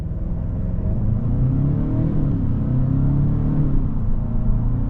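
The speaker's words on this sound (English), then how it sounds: "Takes off beautifully with this Turbo 4." A 2025 Genesis G70 2.5T with a turbo four-cylinder accelerates from inside the cabin. The engine note is a steady, rising hum and drone with a smooth rumble, moderately loud throughout.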